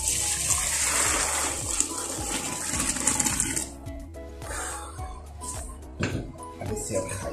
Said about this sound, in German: Und dann gießen wir die Nudeln ab.